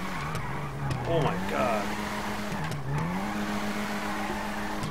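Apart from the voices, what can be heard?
car tires squealing while drifting a Nissan R34 GTR, GTA 5 video game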